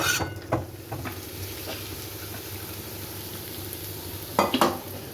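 Ingredients for Bengali biulir dal stirred and fried in a pan, with a continuous close sizzle and several louder scraping strokes of the spoon near the start and end.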